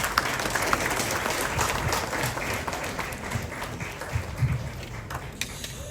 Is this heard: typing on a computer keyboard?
no